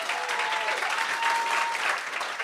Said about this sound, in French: on peut-tu applaudir?